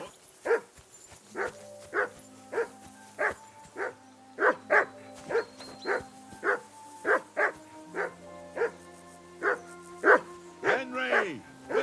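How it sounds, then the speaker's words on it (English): Dog barking in Kingdom Come: Deliverance II, a regular series of about twenty sharp, evenly spaced barks at moderate distance, ending in a whiny yelp. "Whistle at that mutt of yours to stop barking."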